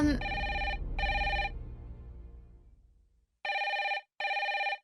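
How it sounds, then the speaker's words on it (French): A telephone rings in bursts of a bright electronic trill, two rings over a fading low hum, then a brief silence and two more rings, fairly loud and with no talking. "Koshi, va répondre au téléphone."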